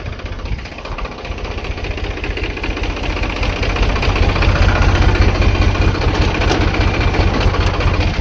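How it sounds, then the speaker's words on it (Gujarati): A tractor engine chugs steadily with a rapid low knocking pulse, loud and close throughout and growing slightly stronger midway, with no talking over it. "હવે ટ્રેક્ટર ચાલુ પડ્યું હે."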